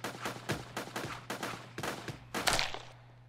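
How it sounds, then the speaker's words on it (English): Bursts of automatic gunfire from the video game Judgement: Apocalypse Survival Simulation crack out in a rapid series of loud volleys. They come in rhythmic clusters, build to a heavier burst near the end, then fall away. "Open fire!"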